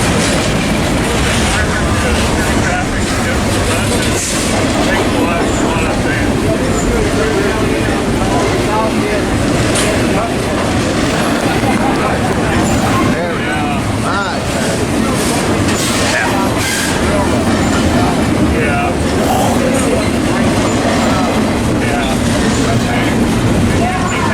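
A westbound freight train rolls past at close range with Union Pacific locomotives, a steady heavy rumble of wagons and wheel clatter lasting throughout, with brief talk over it.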